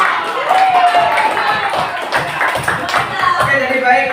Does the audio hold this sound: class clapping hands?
yes